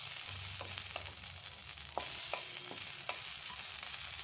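Green chillies and a handful of coriander sizzle in a hot pan for a coconut masala rice, a steady frying hiss with occasional scraping and stirring clicks close by, no talking.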